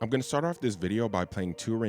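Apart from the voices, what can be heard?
No everyday noise stands out behind the speech.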